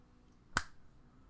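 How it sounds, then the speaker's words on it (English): A single sharp finger snap, close and crisp, rising out of a quiet room and decaying quickly, with no voices. "As I snap my fingers, it goes up 5 cents."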